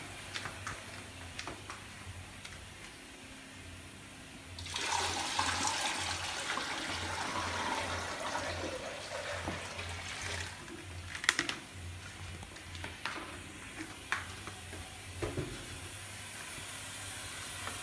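Tap water runs into a bucket for an aquarium water change, a steady hissing rush that starts partway through and continues with faint clicks and knocks, fairly quiet and with no talk.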